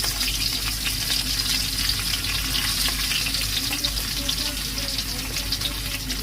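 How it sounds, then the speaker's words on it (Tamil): Onions sautéing in a pan give a loud, unbroken sizzling hiss close by, with faint stirring scrapes mixed into the steady frying. "அப்போ வெங்காயம் மட்டும் வதக்க போகிறோம்."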